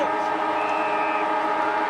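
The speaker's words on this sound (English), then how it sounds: "Wait for the siren." A steady end-of-quarter siren sounds for under a second at an AFL football match, Carlton versus Richmond, in 2002. It rises over a constant roar of the crowd and a commentator's voice.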